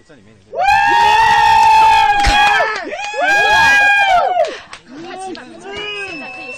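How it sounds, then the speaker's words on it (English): Spectators at a highline competition in Dali, China, break into loud, long shrieks and shouts as a highliner nears the end of his walk, in two big surges and then a softer burst of cheering close by. "just from the shouting and the noise that everybody's making around us, that Pablo Signoret from France may have fi"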